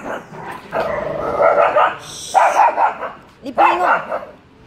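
Several sharp barks from a small dog indoors, loud and close, in three bursts with brief pauses between them and no talking.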